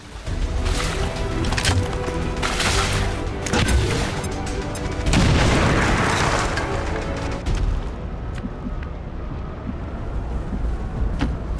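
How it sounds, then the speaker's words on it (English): In the tactical game XCOM 2, a grenade goes off with a loud booming blast amid crackling combat noise, followed by lingering debris rumble and a quieter tail. "We'll just use the grenade."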